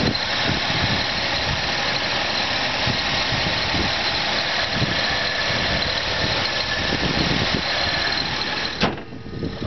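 A 2001 Nissan Pathfinder LE engine idles steadily just after start-up, a continuous close, fairly loud mechanical rumble with a faint background hiss, cutting to a quieter tone near the end.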